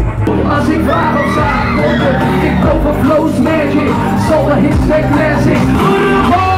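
A packed audience at a live show roars and yells, a dense, loud, continuous wall of cheering and shouting voices close around.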